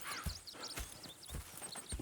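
Horse hooves clip-clopping in the video game Red Dead Redemption 2, several quick muffled thuds amid birdsong and outdoor ambience, moderately close, with no speech.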